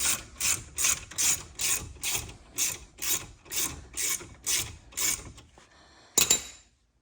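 Ratchet working a brake caliper bolt on a Volvo S40 T5, a steady run of about a dozen crisp, evenly spaced clicking strokes close up, then a pause and one last sharper burst.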